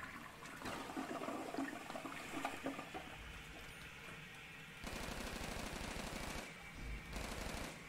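Dense rapid gunfire from Call of Duty Zombies, a steady burst of automatic shots running the whole time with a louder, harsher stretch in the second half.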